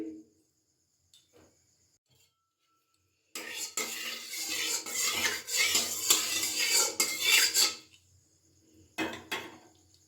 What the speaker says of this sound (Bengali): এবার আমি কড়াইটা বসিয়ে দিয়েছি কড়াইতে দিয়ে দিচ্ছি একটু সর্ষের তেল